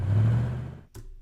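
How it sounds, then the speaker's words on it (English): A synthesized car engine starting sound in an FMOD vehicle system swells into a low droning rev, cuts off abruptly, then a short click leads into a quieter idle hum. "so it sounds like a car starting"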